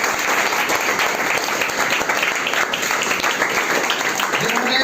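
An audience claps steadily at a school prize ceremony honouring a student who topped in maths, the dense applause sustained and even throughout with no pauses.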